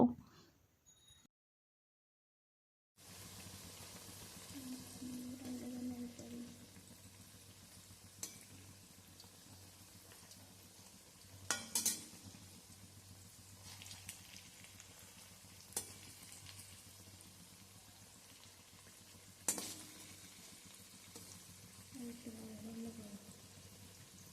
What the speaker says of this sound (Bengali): বাঁধাকপির পকোড়াগুলোকে ছেড়ে দিচ্ছি তেলের মধ্যে।